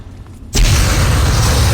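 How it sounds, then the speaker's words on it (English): A firework explosion in the video game Fallout 3: a short quiet lead-in, then a sudden loud boom that opens into a sustained roaring wash of noise lasting more than a second. "Fireworks."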